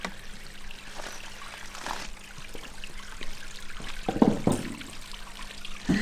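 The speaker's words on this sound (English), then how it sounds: "that's Pond and waterfall" Water trickles steadily from a small garden pond waterfall, a soft continuous splashing with a few louder bursts and clunks, no voices heard.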